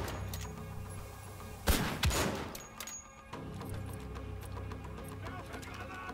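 Gunfire in Wolfenstein: The Old Blood, a burst of sharp shots near the middle of the stretch, with one louder blast and a quieter follow-up over low game ambience.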